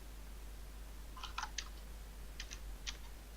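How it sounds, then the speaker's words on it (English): Faint keystrokes on a computer keyboard come through a voice chat in small clustered bursts of clicks, one flurry and then a few separate taps, over a low steady hum. "I'm hearing when you're typing on your keyboard"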